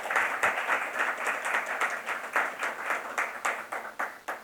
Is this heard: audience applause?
yes